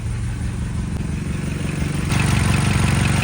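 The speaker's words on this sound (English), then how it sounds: "Sounds like she's running good. She's idling good." A BMW M8 Competition engine idles steadily up close, a low, even rumble that grows slightly louder and rougher partway through, with a possible exhaust leak at the rear and no talking.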